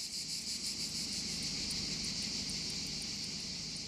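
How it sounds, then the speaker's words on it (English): Cicadas drone in a dense, continuous high buzz through the summer heat of Provence, steady and moderately distant, with no voices. "the hotter it gets, the faster the cicadas sing"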